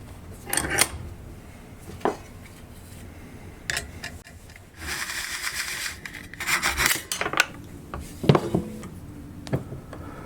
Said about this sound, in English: And file all the sharp burrs off.